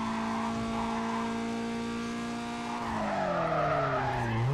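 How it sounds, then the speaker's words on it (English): A car in the Need for Speed Carbon racing game slides through a handbrake turn, a loud sustained tire skid with steady engine drone that drops in pitch near the end, heard alone without talk. "that's me full on the handbrake turning in"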